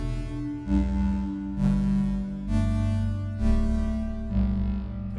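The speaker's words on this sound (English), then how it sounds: "So now we actually have a generative shift register sequence where the same notes are played more than once, but by different oscillators" Zoia modular synth running a generative shift register sequence, with ADSR envelopes shaping the notes: sustained, layered synth tones whose pitches change about once a second, with each new note swelling in and overlapping the last, no talking.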